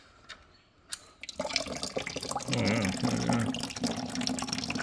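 Water gushes and splashes out of an engine oil drain plug, starting after a few drips and building into a steady close pour, with a man's brief exclamation.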